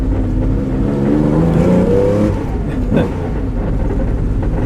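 A Porsche 911 RSR recreation race car engine revs hard, its pitch climbing then settling into a loud, steady roar close by, with no talking.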